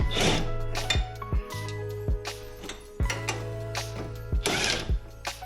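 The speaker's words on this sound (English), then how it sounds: "We're gonna loosen these bolts here." Ratchet wrench loosening wheel bolts on a 2012 Acura TSX, rapid metallic clicking bursts over a low steady hum, with sharp clanks of the tool shifting between pulls, close up.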